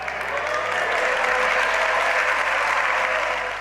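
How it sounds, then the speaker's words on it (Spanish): Sustained applause fills the Spanish parliament chamber as socialist deputies stand and clap, a dense, steady roar of many hands with no speech over it. "Con este aplauso han recibido a Sánchez en el hemiciclo"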